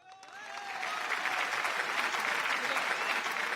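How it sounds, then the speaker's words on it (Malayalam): Audience applause breaks out and swells quickly into steady, dense clapping that holds at an even level, fairly near, with faint voices mixed in. "ഒരു നല്ല കയ്യടി."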